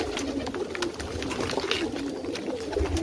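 A pigeon coos softly and repeatedly while stuck inside a box, set against rustling and scuffling noises close to the microphone.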